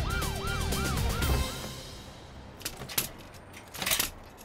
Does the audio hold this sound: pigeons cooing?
no